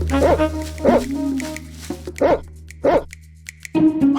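A dog in an animated story barks in quick repeated bursts while chasing a hen, loud and close, with a narrator's voice speaking between the barks.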